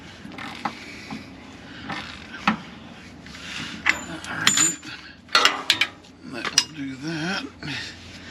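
A ratchet working loose a leaf spring shackle bolt on a 1999–2007 Ford F-250/350, with intermittent metallic clicks, creaks and clanks under a low steady hum.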